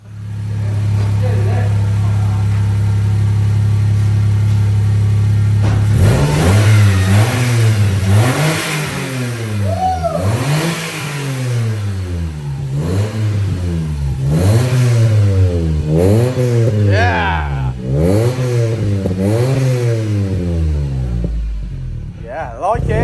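A Mitsubishi Colt 1.1 with a custom exhaust idles with a steady low drone. It is then revved hard and repeatedly, its pitch climbing and falling in a rhythmic series of loud, close blips before settling back.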